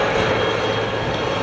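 A display helicopter at the Cotswold Airshow climbs vertically to 300 feet, giving a loud, steady engine and rotor roar that holds constant, with no other sounds coming through.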